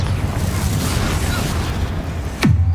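A Confringo fire spell explodes in the video game Hogwarts Legacy: a loud, sustained roaring blast with a rumbling low end, ending in a sharp sweeping whoosh and a fresh burst.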